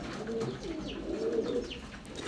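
Rekdar pigeon, a medium-sized Sabja-coloured male, cooing in a low rolling series of soft, continuous coos at close range, with faint chirps from other birds behind it.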